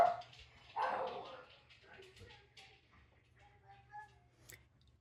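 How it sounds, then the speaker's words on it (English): Dogs bark a few times in the background of a home kitchen during a Thanksgiving dinner, moderately loud at first and then softer, with a person talking over them. "there's dogs barking."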